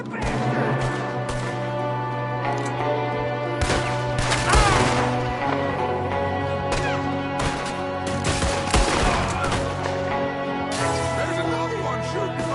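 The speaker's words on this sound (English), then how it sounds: "There's another one shooting from the window." Repeated gunfire from the video game Red Dead Redemption 2, sharp shots and bursts over a droning music score, with voices speaking at times.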